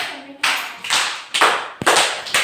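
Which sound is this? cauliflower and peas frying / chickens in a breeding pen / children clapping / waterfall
children clapping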